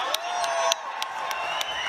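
An audience at a fight event claps and cheers for a winner's debut, crowd noise holding steady with sharp whoops and claps cutting through, and voices mixed in.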